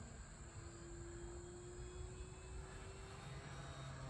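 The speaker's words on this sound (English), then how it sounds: "Give it some juice to climb out of that." An E-flite Trojan T-28 1.2 m RC warbird, running electric on a 3S pack, climbs with a steady motor and propeller drone whose pitch rises slowly as throttle is added. Heard from a distance, under a constant outdoor hiss.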